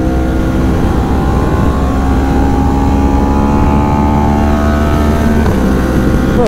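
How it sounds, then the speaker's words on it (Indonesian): A Yamaha R1M superbike lapping the Mandalika circuit, its engine roaring loud and close in a sustained high-revving drone with shifting pitch as it accelerates. "Suaranya emang nikmat sekali suara R1M itu, guys."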